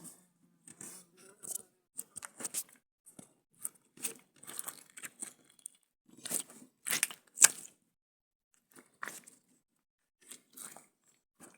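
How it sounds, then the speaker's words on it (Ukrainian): Slime squeezed and pressed by hand, giving close, irregular bursts of crinkly clicking and crackling pops with quiet gaps between them. "Чи він дуже прикольно клікає"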